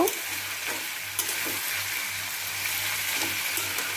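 Chopped tomato and potatoes being stirred together in a frying pan, with a steady sizzle of frying throughout and soft scraping stirs repeating every second or so, close up and with no talking.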